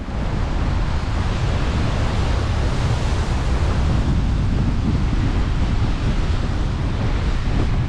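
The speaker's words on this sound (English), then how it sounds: "Blowing a gale here at Quarantine Bay." Strong gale wind roars across the microphone at Quarantine Bay near Cooktown, with surf mixed in, a loud, steady, buffeting rush with no pauses.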